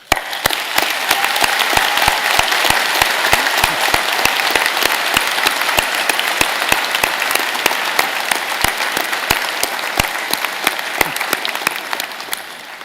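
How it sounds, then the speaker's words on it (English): A graduation convocation audience gives a vigorous, sustained round of applause for the graduates' families, dense clapping from a large crowd that holds steady before tapering off at the end. "thanking them with a vigorous round of applause"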